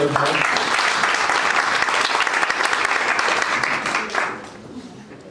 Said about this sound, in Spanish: Un fuerte aplauso para Lucía.